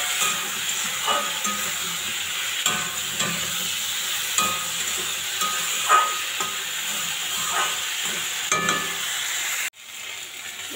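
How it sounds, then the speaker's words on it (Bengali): Taro, potato and eggplant fry with salt and turmeric in a pan, giving a continuous hissing sizzle with periodic stirring scrapes that cuts off abruptly near the end, with no talking. "এই যে দেখতে পাচ্ছ কচু, আলু ভাজা হয়ে গেছে।"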